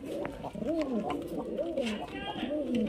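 A highflyer Giribaz pigeon coos in repeated low, rolling calls close by, while someone talks over it.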